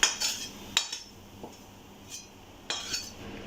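Roasted besan being moved from a pan into a wide plate for ladoo, with a few light metallic clinks and scrapes of a spoon against the cookware, spaced apart and fairly quiet.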